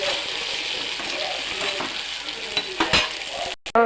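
Ingredients frying in oil with a pinch of salt for okra and tomato buttermilk curry, a steady close sizzle with spoon stirring and a couple of sharp pan knocks near the end.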